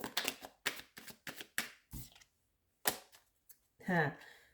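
Quick bursts of tarot cards being riffled and shuffled, several rapid clattering runs with short pauses, close by, ending with a brief voice.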